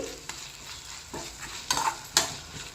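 Tomato frying in oil and being stirred in a pan while cooking Andhra-style prawn fry, with a steady soft sizzle broken by a few louder scraping stirs near the end, no voices.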